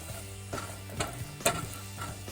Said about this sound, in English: when you have melted a teaspoon of butter into your medium hot pan, you can start to cook the onions